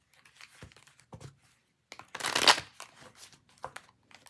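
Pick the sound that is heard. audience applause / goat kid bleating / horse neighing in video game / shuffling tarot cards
shuffling tarot cards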